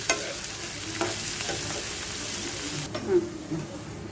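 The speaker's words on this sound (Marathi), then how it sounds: "थोडीशी कोळंबी 10 मिनिटं परतून घ्यायची छान" Prawns sauté in a pan with a steady, soft sizzle. Light stirring scrapes recur at intervals, and the sound is close and continuous.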